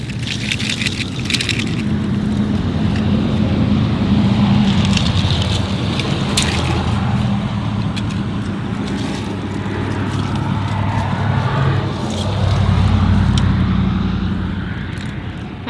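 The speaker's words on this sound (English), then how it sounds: "I know cars are driving by" Steady roar of passing traffic, a continuous rushing hum that swells louder near the end as a vehicle passes close by.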